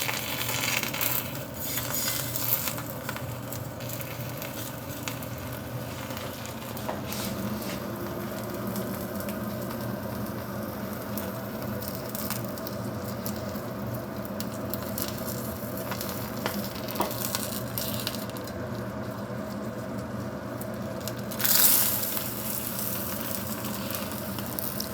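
An egg fries in oil in a Darto carbon steel pan, giving a steady close sizzle that lasts the whole time, with a brief metallic clink near the end and no talk.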